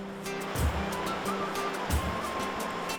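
Rushing water of the Middle Fork Payette River, swollen with spring runoff, heard during a deep wading crossing on the way to Rocky Canyon Hot Springs; a steady broadband roar with a few low thumps, close and continuous.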